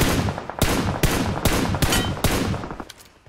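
A burst of gunfire in the battle-royale mobile game PUBG Mobile: five or six sharp, loud shots cracking at roughly half-second intervals, followed by a couple of fainter distant pops as the firing dies away, with no talk.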